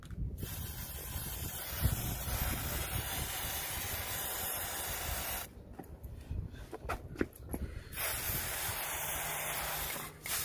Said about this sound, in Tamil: ஸ்ப்ரே பெயிண்ட் நம்ம எடுத்துட்டாலே போதும்.